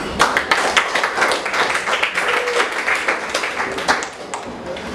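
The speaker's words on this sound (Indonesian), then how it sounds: "Kita kasih aplaus." A classroom of students applauds after a group history presentation, a dense, steady patter of many hands clapping close by for about five seconds before tapering off at the end.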